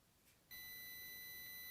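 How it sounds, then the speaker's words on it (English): After a brief quiet moment, a thin high-pitched electronic buzzer on an Arduino ultrasonic sensor circuit starts and holds a steady continuous tone, faint and alone. "you'll hear the buzzer go off"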